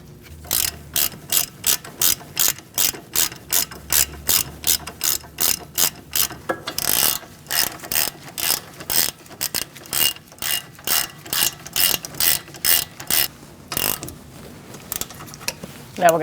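A ratchet wrench tightens the brake caliper bolts on a 2002-2006 Toyota Camry during a steering knuckle replacement, a close, fast rhythmic clicking in even bursts repeated throughout, with brief pauses between strokes.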